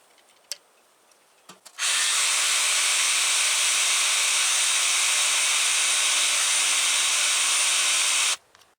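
A drill press with an oiled bit boring into metal for a homemade tool, producing a steady, loud grinding whir that starts abruptly, holds for about six seconds and cuts off sharply.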